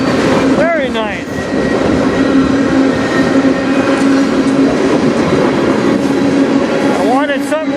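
A CN freight train with a double DPU rolls past close and loud, a steady heavy rumble of wheels and cars throughout, with wheel squeal rising briefly near the start and again at the end.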